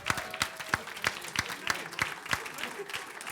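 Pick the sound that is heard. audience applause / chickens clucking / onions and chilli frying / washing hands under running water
audience applause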